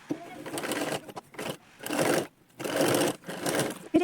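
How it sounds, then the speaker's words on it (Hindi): Sewing machine stitching a double fold on a lined blouse: short, close bursts of rapid needle clatter start and stop several times, with a voice speaking between and over them. "ऐसे 2 फोल्ड करके सिलाई लगा लेंगे यहाँ पे"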